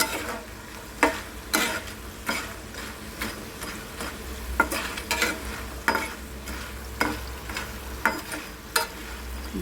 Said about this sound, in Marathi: बटाटे पूर्ण भाजून झाले आणि आपण ह्याला बटाट्याचे काप आपण तळून ठेवलेले आहेत